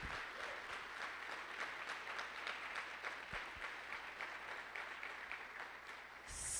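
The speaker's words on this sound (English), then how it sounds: "I would like a rousing round of applause for everybody and all the community partners that do so much for us" A large audience at a DMPS State of the Schools event gives a rousing round of applause for community partners, steady and full for several seconds, heard at a distance with a faint low hum beneath.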